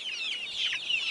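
Hens, a mixed flock of Rhode Island Reds and meat birds, cluck and chatter continuously at close range, a busy overlapping murmur with no talking.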